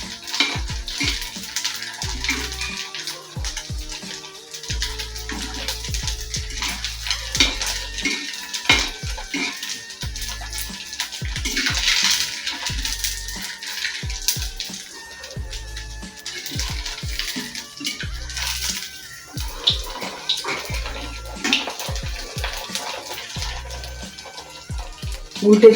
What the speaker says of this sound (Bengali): একটা একটা করে ভাজলে খুব সুন্দর ভাজা হবে